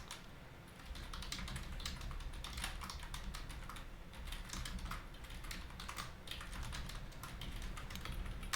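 Rapid, steady typing on a computer keyboard as code is entered, a close stream of crisp key clicks with brief pauses and no voice.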